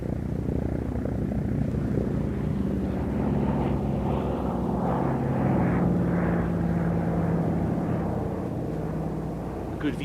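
WWII Allied propeller aircraft wearing D-Day invasion stripes flying at a VE Day air show at Duxford: a continuous low engine drone that rises and falls slightly as it passes, with a crowd murmuring underneath.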